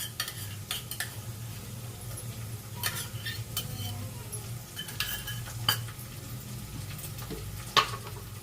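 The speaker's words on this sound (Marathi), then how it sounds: "आता आपण ह्याच्यामध्ये हे मी वाटण केलेलं आहे ते टाकून घेते" Ground spice paste goes into a hot pan and sizzles steadily, while a spoon stirs and scrapes against the metal with occasional sharp clinks, close and moderately quiet.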